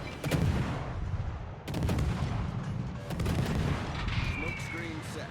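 Heavy naval gunfire in World of Warships, the Akizuki destroyer battling a submarine, deep booming salvos every second or so over a constant rumbling sea-and-engine bed, with a voice talking over it.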